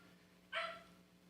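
A single short dog bark, fairly faint and brief, heard alone against a quiet indoor background with no talking.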